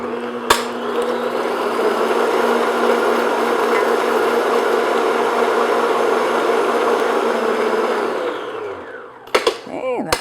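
An electric mixer whirs steadily for about eight seconds while beating vanilla extract into a batter, then winds down, and a few knocks and clinks follow at the end.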